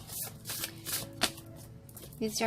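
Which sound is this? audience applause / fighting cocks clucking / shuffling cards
shuffling cards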